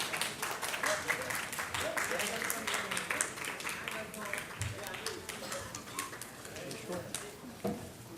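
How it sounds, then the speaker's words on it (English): Dense, steady clapping from a crowd at a luxury project launch event that keeps going without a break, with some voices mixed in underneath. "a huge round of applause"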